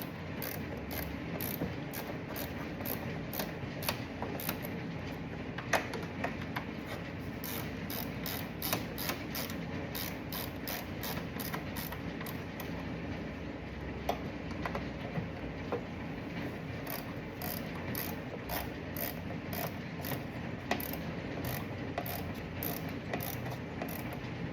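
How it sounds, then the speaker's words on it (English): A hand ratchet tightens bolts on the fuel pump of a 2002 Corvette C5, rapid repeated clicking of the pawl in steady bursts, close and continuous with occasional louder clacks. "I grab that ratchet like so"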